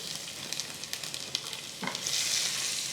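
Garlic sizzles in a hot tempering of mustard seeds, cumin and asafoetida while a spoon stirs it, giving a close, steady crackle with scraping strokes and a brief louder surge near the end.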